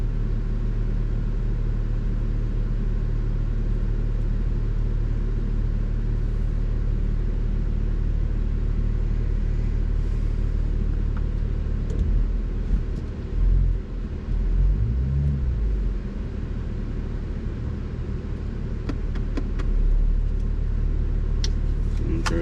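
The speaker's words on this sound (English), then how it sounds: "I have the car in sport mode, so it's kind of louder." A 2023 BMW M240i in sport mode is driven, with a steady low engine rumble and road drone heard from inside the cabin and a brief swell partway through.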